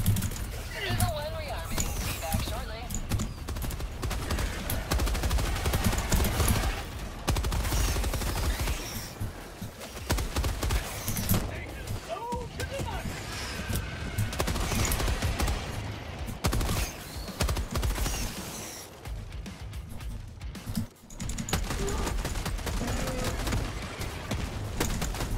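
Rapid weapon fire and explosive thumps from a grenade launcher in the Helldivers video game, a dense continuous barrage of combat noise running throughout, with a voice talking intermittently over it.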